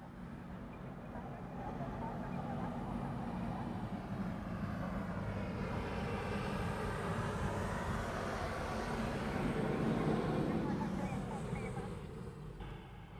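Japan Airlines airliner arriving from Tokyo Narita at Honolulu airport, a broad steady jet roar that swells toward the end and then eases, heard from a distance.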